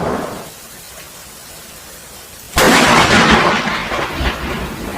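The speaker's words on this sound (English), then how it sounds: "Lightning strike right in front of me." Lightning strikes a tree: after a few seconds of quiet outdoor hiss, a sudden, very loud crack of thunder bursts in close by and rolls on as a heavy, sustained rumble to the end.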